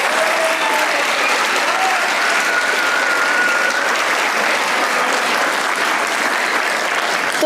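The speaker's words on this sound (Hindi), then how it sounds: "तालियां बजाएं भाई मरीना के लिए।" Loud, dense audience applause for a guest on the Hasna Mana Hai comedy talk show, a steady, unbroken wash of clapping for the whole stretch with no talking over it.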